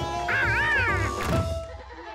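Cartoon goats bleat in a wavering, warbling cry that rises and falls, followed by a shorter second bleat, set over a soft musical backing with no talking.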